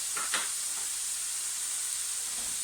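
Mushrooms, peppers and diced carrots drop into a hot frying pan for bolognaise sauce, giving a steady close sizzle with a brief clatter and burst of stirring near the start.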